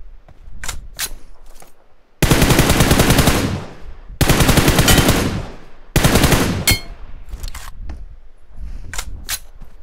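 Loud bursts of rapid automatic gunfire in three long volleys, separated by short pauses and scattered single sharp shots.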